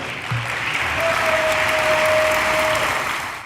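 Members of Congress applaud steadily in a large chamber, a dense wash of clapping that holds at full level throughout, with a brief faint tone running beneath it.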